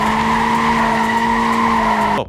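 Tires squeal loudly during wheelspin under full acceleration from a two-wheel-drive vehicle, one sustained, steady screech holding for about two seconds before cutting off abruptly.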